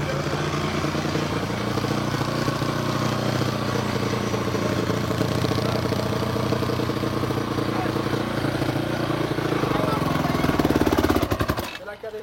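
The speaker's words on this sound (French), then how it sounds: "Eh, tonton Michel, il n'arrive pas à éteindre la moto." A motorcycle engine idling close by, a loud, steady rattling, chattering beat with a mechanical clatter throughout, cutting off abruptly near the end.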